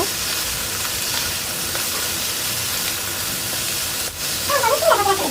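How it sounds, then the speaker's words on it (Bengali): Broccoli seasoned with salt and black pepper fries on an induction cooker, giving a continuous hissing sizzle that stays even and close throughout, with a brief dip and a few faint clinks near the end. "গোলমরিচ দিয়ে এটা এখন ফ্রাই করে নিব"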